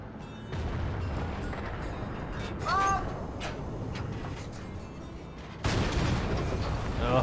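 A Type 57 Japanese heavy tank in World of Tanks, with a steady engine rumble, a brief voice, and then a sudden loud gun blast that keeps roaring to the end.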